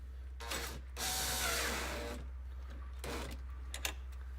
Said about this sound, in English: We'll tighten that up with our 10mm ratchet.